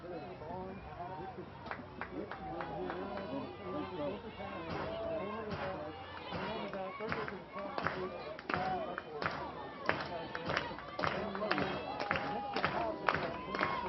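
A bundled-up crowd at a college softball game in Norman, Oklahoma, claps in unison on a 3-2 count, a steady run of rhythmic claps under broad stadium crowd noise, moderately distant.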